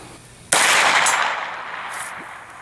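A single loud, sharp shot from an AR9 firing copper polymer interceptor reloads outdoors, followed by a long ringing decay and a faint knock afterward.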